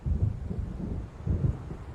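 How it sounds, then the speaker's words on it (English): Low rolling thunder from an approaching storm in the Alan Wake Remastered video game, two deep rumbling swells in close succession with no talking. "It seems there's a storm coming."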